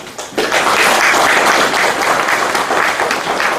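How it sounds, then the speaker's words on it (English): A large audience at the launch of an exhibition in Glasgow breaks into loud, sustained applause, a dense wall of clapping that starts abruptly and holds steady to the end. "I think you should give yourself a big round of applause too"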